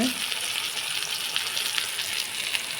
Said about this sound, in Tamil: தக்காளி ஓரளவுக்கு அந்த எண்ணெயில் வதங்கிடணும்.